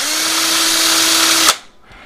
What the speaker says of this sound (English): So I'm just gonna hit it with a drill again just to